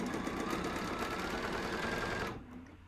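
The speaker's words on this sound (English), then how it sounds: "So I'm going to sew this" Sewing machine stitching a Golden Gate quilt block, a fast steady mechanical whir running continuously up close before stopping near the end, no talking.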